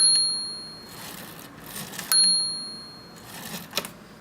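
The bell of an antique pink typewriter rings clearly twice, each time a bright metallic ding, with soft mechanical clicks and handling noise in between.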